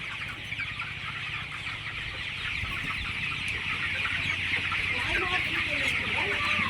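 Chickens cluck and chatter steadily over a constant, noisy hum, several birds at moderate distance, with no speech.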